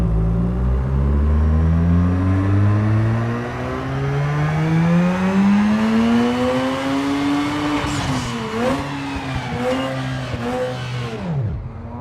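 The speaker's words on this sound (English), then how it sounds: "We'll run it through the dyno now." A tuned car's engine revs on a dyno in Need for Speed Underground 2, climbing steadily through the gears to a high scream, then dropping sharply to idle near the end, loud and close with no talking.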